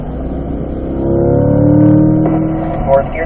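A Chevrolet Corvette C8 on a track pulls hard, its engine tone climbing steadily before a brief dip at the shift from fourth to fifth gear, loud and close, with a voice talking over it.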